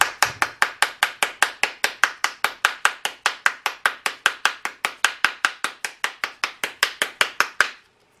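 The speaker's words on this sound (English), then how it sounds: "Take your spoon and give some taps around the outside shell." Spoon tapping around the outside shell of a plastic 3D shamrock bath bomb mold, about thirty crisp, evenly spaced close taps in a steady rhythm that end abruptly.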